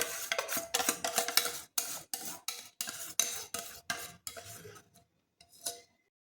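Khaman batter scraped into a dish with a spoon: a run of short, regular scraping strokes, close up and fairly loud, slowing and fading out near the end with no talking.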